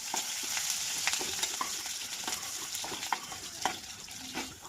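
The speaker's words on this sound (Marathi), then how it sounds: "कांदा जोपर्यंत लाल होता तोपर्यंत हलवत राहायचं." Onion and chili frying in a hot pan with curry leaves, stirred continuously: a dense, fairly loud sizzle fills the background while repeated scrapes and clinks of the spoon cut through at an uneven pace, close by, no talking.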